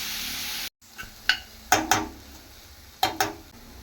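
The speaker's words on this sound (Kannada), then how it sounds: "ಒಂದು 3 ಈರುಳ್ಳಿನ ಸಣ್ಣದಾಗಿ ಕಟ್ ಮಾಡಿ ಸೇರಿಸ್ಕೊತಾ ಇದ್ದೀನಿ" Three finely chopped onions frying in a pan, a sizzle that cuts off briefly, then a quieter hiss broken by several sharp clinks and scrapes of a utensil against the pan.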